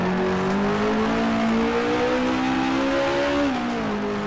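A Brabham BT11 with its 2.5 liter Climax engine in the Grand Prix Legends racing game, humming at steady revs that climb gradually then drop briefly around a shift, a continuous loud drone with no talk.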